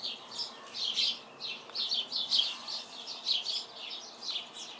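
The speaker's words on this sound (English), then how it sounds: "there's some birds. They're singing." Several birds chirp and sing in quick, repeated high bursts, a continuous lively chorus at moderate distance over a quiet background hiss.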